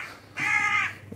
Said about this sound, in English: the crow.